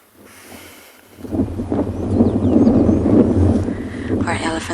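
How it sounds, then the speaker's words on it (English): Wind blowing hard in the African bush, a loud steady roar buffeting the microphone that builds after a quieter start, with someone talking over it. "For this area, this is quite windy."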